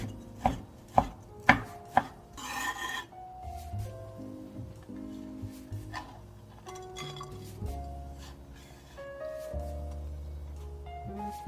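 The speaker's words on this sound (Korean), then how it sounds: "씨를 빼준 배추를 3장 정도 포개서채 썰어 준비해 놓고요" Knife chopping through stacked napa cabbage leaves on a board, cutting them into thin strips: a few sharp, evenly spaced chops at the start, then softer kitchen clatter and light rustling, with no voices.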